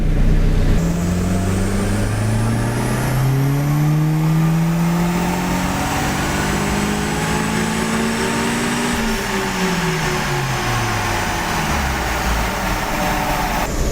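A turbocharged car engine revs up hard through the gears under boost on wastegate spring pressure, pitch climbing, dropping at a shift, then climbing again, loud and close with a whining tone on top.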